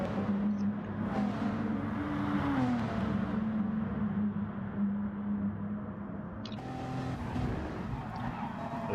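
Race cars in a racing video game accelerate with a steady engine drone and rising pitch sweeps as they pass, heard continuously at moderate loudness.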